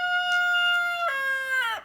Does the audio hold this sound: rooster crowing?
yes